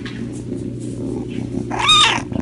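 A cat purrs with a low, steady rattle up close, breaking into a short meow near the end.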